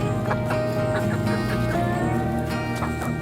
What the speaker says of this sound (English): Good morning, chickies.